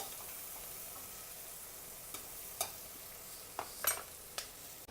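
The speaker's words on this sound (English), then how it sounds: "This curry that I'm sauteing very lightly, it's very, very lightly. I'm sauteing it because of the olive oil." Curry with spices sautés lightly in olive oil, giving a steady soft sizzle close by, broken by a few sharp clinks and scrapes of stirring.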